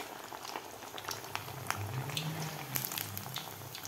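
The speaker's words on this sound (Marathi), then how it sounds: "मिडियम गॅसवरच आपल्याला तळायचे आहेत, म्हणजे हे व्यवस्थित वडे तळतात." Lentil vadas deep-frying in hot oil over a medium gas flame, a steady close bubbling hiss with scattered crackles and pops throughout, no voices.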